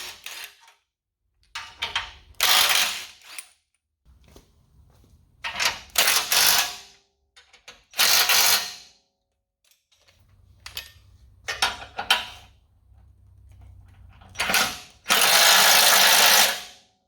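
A ratchet cranks down the bolts on a bracket for an SFR Sledgehammer Series rear bumper on a Bronco, in several loud bursts of rapid clicking separated by pauses.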